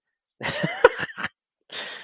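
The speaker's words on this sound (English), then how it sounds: "He's just coughing up a lung." A person coughs in a short, harsh fit of several close bursts, followed by a brief pause and one more breathy cough.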